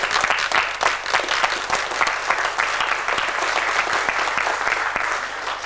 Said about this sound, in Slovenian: Za dober začetek zaploskajmo vsi.